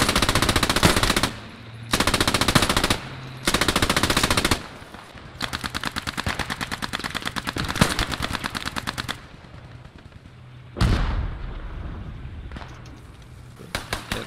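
Sten and G41 guns firing in a World War II-style shooter game, with long rapid-fire bursts and dense automatic volleys separated by short pauses, loud and close throughout.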